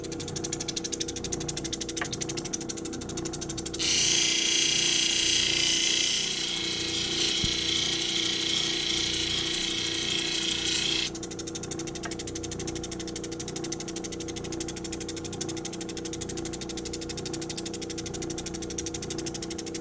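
A cabochon stone pressed against a spinning polishing wheel, a steady motor hum throughout with a louder, brighter grinding hiss for several seconds in the middle as the stone meets the wheel.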